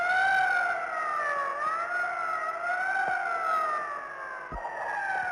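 An ambulance siren wails through the night during the 23-F coup attempt in Spain, a steady rising and falling tone held for several seconds, with a brief thump near the end.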